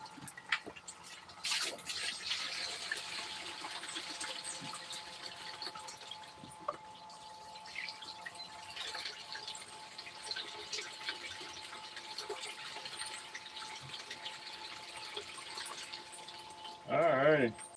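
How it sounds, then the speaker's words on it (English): Water poured through a gold cube sluice at a creek during gold prospecting, a steady broadband wash and trickle running continuously for the whole stretch, fairly close, with a brief louder splash near the end. "Let's go ahead and pour the water through"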